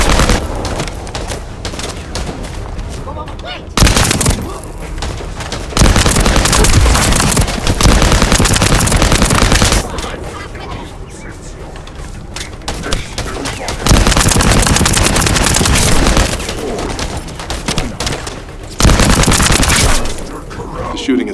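Heavy gunfire from the video game The First Descendant, with loud sustained automatic bursts broken by short pauses over about twenty seconds and voices speaking at times.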